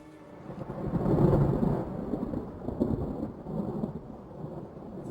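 Rain falling in a thunderstorm, a steady hiss of drops with a low rolling rumble of thunder that swells early and fades, continuous and fairly close with no voices.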